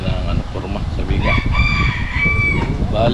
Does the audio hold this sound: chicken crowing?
yes